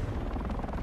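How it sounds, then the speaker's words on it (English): Drones in the Spider-Man 2 video game give a steady, dense rotor whir, a low thrumming buzz held briefly at moderate level. "We got drones."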